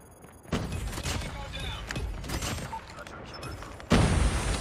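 An explosion in a shooter video game, heard as sharp bursts and booms with gunfire-like cracks, a loud blast near the start and another near the end, amid busy game noise.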